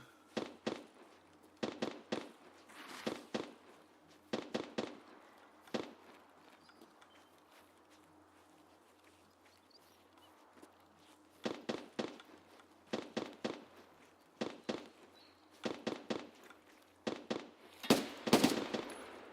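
Gunfire crackles in the video game Escape from Tarkov, repeated short bursts of sharp shots in quick clusters, pausing for a stretch midway before resuming and growing louder toward the end.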